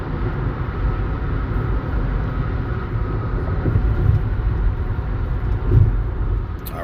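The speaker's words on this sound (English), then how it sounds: "this is in transit, so you're going to hear cars in the background and stuff" Steady low road rumble of cars passing outside while in transit, a continuous broadband drone with slight swells as vehicles go by, with no voices.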